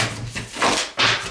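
A tarot oracle card deck being shuffled by hand, giving a couple of brief papery riffling bursts with a short pause between them, close and fairly loud with no talking.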